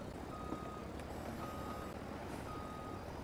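Steady repeating reversing beeps from a semi truck backing up in Farming Simulator, a high tone pulsing at regular intervals over a constant low engine rumble, with no voices.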